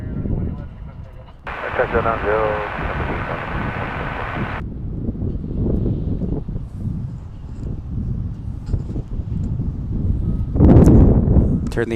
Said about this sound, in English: we don't often see a citation land on this side